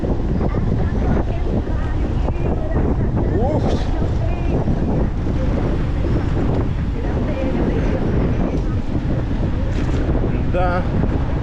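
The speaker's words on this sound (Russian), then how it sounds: "и ветер такой, капец, штормит так" Strong wind by the sea on a cold, stormy day, roaring steadily and buffeting the microphone close up, with people talking and exclaiming over it.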